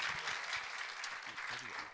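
Applause from a church congregation at a lecture, steady and moderately distant, with a voice talking over it throughout.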